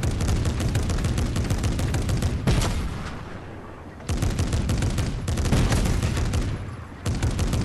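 Rapid automatic gunfire in a multiplayer shooter video game, loud sustained bursts broken by two short pauses, with no talk over it.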